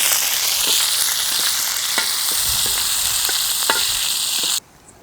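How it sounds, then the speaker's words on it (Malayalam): Paneer cubes sizzle steadily in hot oil in a pan while being stirred for a Lays kizhi omelette, with a continuous close frying hiss and scattered small clicks and taps of the utensil until it stops abruptly near the end. "ബാക്കിയുള്ള പനീറും കൂടെ ഒന്ന് വറുത്തെടുക്കണം."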